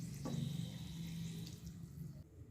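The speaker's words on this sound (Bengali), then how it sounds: "এবার আমি মিক্সিং জারটা ধুয়ে এর মধ্যে আধা কাপ পরিমাণ জল দিয়ে দেব।" Water running into a washed mixing jar during vegetable rice preparation, a steady close splashing pour lasting the whole moment and tapering off near the end.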